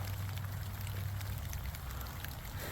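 Meltwater drips and trickles steadily from ice-coated leaf tips of an American hophornbeam after an ice storm, heard outdoors as a constant soft patter without voices.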